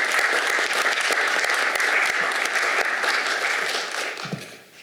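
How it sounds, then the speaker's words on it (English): A lecture audience gives a hearty round of applause honoring the AAAS on its 175th anniversary, a dense, sustained clapping that stays loud before tapering off in the final second. "I'd like another round of applause for the AAAS"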